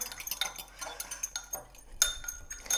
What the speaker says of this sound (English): So you can just whisk that together there.